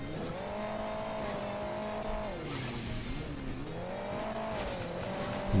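A sports car in the mobile game Hill Climb Racing 2 revs up and down over bumpy terrain, its buzzing engine note rising and falling twice, with squealing tires mixed into the steady, moderately loud drone.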